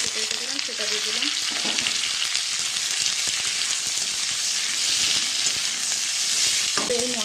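Chopped onions and capsicum hitting hot oil and frying in a pan, a dense, close crackling sizzle that runs steadily throughout, with stirring scrapes and brief bits of talk near the start and end.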